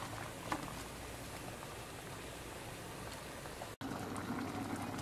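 Pumpkin pieces and sugar simmering in a pot with no added water, giving a steady bubbling, crackling boil at close range that runs almost without a break, apart from one brief dropout near the end.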